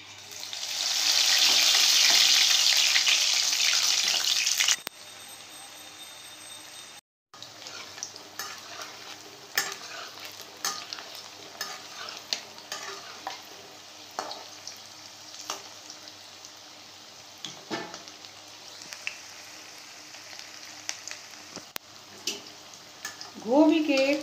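Cauliflower pakoras frying in hot oil, a loud steady sizzle and hiss for the first few seconds, then a quieter crackle that keeps on with small pops and scrapes, with a voice near the end.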